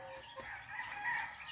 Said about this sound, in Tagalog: pakawalan muna natin yung yung mga sisiw saglit dito